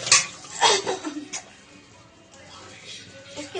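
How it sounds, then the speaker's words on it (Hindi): Dishes are washed in a hurry in a home kitchen, with clinks of pots and utensils and splashing water close by, and busy scrubbing noises between them. "बर्तन धोती हूँ फटाफट।"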